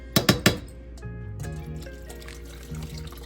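Water poured from a measuring cup into a pot of Chennai-style mutton biryani, a short splashing pour with a couple of quick gushes at the start, then fainter trickling and stirring sounds.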